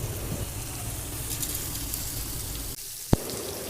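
Turmeric, salt, split mustard seeds and chili powder sizzle in a pan for a homemade raw mango pickle, a steady close crackle and hiss that drops off near the end with one sharp clack.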